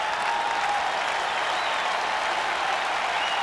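A large crowd applauds and cheers in a stadium during game 3 of the 1992 World Series between Toronto and Atlanta, a dense, steady wash of clapping with no break.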